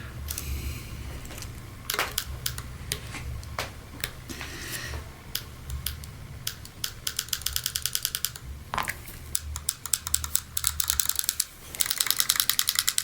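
Small adjustment screw being turned into the trigger of a Shocker AMP paintball marker, a long run of fine rapid clicks and ticks, close, with no talk.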